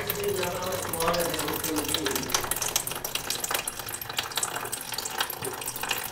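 Water from a leaking toilet splashes and trickles steadily into a cut-open antifreeze container, a continuous close running-water sound lasting several seconds with faint talk underneath.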